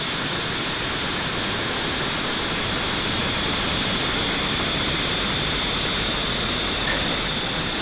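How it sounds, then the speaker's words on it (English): A SpaceX Falcon 9 rocket lifts off carrying the Galaxy 37 satellite, producing a dense, unbroken roar that stays loud and steady throughout, with no voices heard. "ignition, and liftoff for Falcon 9"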